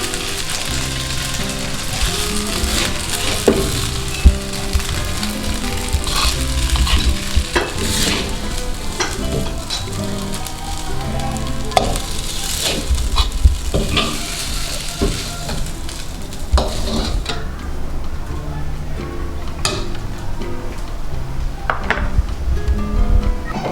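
Nasi goreng is stir-fried in a pan, with steady sizzling and frying alongside repeated scraping and clattering of a utensil against the metal, continuous and close.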